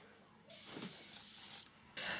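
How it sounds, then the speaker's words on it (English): Makeup setting spray is misted onto a face in a few short, soft hissing puffs, quiet and close, with brief pauses between sprays and no talking. "It's just a makeup spray, you spray on your face."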